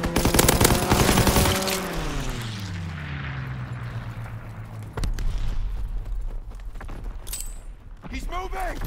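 Aircraft strafing gunfire in the World War II shooter Call of Duty: WWII, with a loud burst of rapid fire at the start as a plane's engine tone sweeps past, then further scattered shots and distant combat noise.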